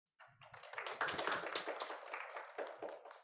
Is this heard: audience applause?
yes